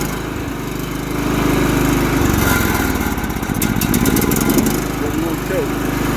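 A John Deere L110 lawn tractor engine, revived after sitting ten years, runs steadily nearby with a low throbbing drone that rises slightly midway, while someone talks over it.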